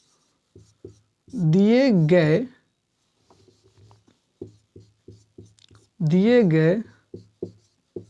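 Chalk or marker scratching on a board during a Hindi-language maths lesson on arithmetic progressions, short taps and strokes in bursts between two spells of a teacher speaking.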